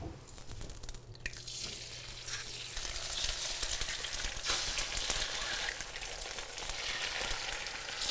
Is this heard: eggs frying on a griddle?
yes